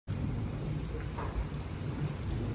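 Steady heavy rain pours outdoors in Channarayapatna during a storm with lightning and cool wind, a dense continuous wash with low rumbling underneath, close and even throughout without speech.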